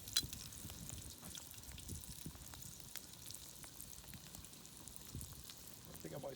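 Steady crackling sizzle of snakehead fish frying in hot oil, dense and continuous, with scattered pops and no talking.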